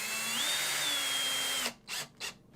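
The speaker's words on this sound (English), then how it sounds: "Whenever you're using a drill for this, by the way, you want to set the power very low so you don't strip anything" A power drill set to low speed drives screws into a 2015 Fender Jazz Bass, whining steadily for about a second and a half, then stopping and giving two short trigger bursts.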